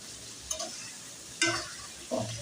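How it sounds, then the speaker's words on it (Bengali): Spices and potatoes stir-fry in a pan, three brief scraping strokes of a spatula over a faint, low sizzle, close up and without talk. "এখন এইগুলো কিন্তু একটু আলু সহ কষিয়ে নিব।"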